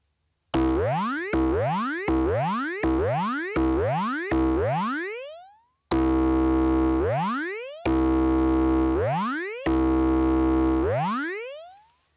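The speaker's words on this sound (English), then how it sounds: "This patch is called Trampoline Bounce." Korg Volca Modular synth patch called Trampoline Bounce: a repeating boing with the pitch sweeping upward, six quick bounces in a row, then three longer, slower ones, loud and alone.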